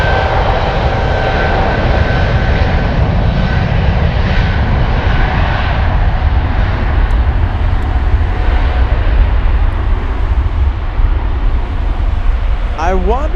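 An airplane taking off at Frankfurt airport, its engines roaring loud and steady throughout, heard from nearby with a faint hiss on top.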